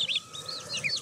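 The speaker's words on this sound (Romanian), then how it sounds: "Aici avem puișorii care sunt la zbenguială de câteva ore bune" Young domestic chicks peep while romping in their enclosure, a short burst of several high, rising-falling calls close by over a low background hum.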